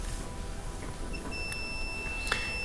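Multimeter continuity beep from probes touched across a small yellow high-limit thermostat in the back corner of a GE gas dryer: a thin steady electronic tone of about a second, quiet against faint room noise.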